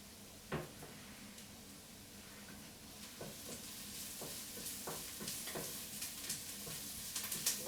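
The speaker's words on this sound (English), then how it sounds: "Onions cooking down nicely." Onions frying in a pan for an orange rosemary chicken dish, a low steady sizzle with occasional stirring scrapes and soft clicks, moderately quiet and without talk.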